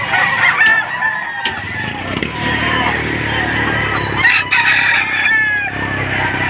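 Roosters crow among other fowl at a rooster sale in Padre Garcia, Batangas, with a few crows standing out over a steady, busy backdrop of clucking and faint honking.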